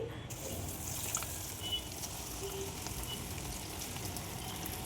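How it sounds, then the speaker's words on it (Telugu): Idli-batter punugulu deep frying in hot oil, a steady, even sizzle and bubbling throughout with no voices. "బోండా మొత్తము ఆయిల్లో డీప్ ఫ్రై కావాలి కదండి"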